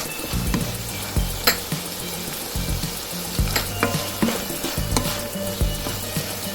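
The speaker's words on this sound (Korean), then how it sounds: "10초 정도만 볶아주세요" Green beans stir-frying in a glaze with sesame oil and green and hot chilies, a loud continuous sizzle broken by repeated scraping and clanking of a spatula against the pan, no voices.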